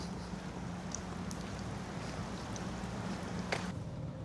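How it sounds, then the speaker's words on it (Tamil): Heavy rain pouring outside, a continuous even hiss of falling water with scattered drop impacts and a low background hum, fairly faint and with no talk. "வெளியில் மழை கொட்டுன்னு கொட்டுது."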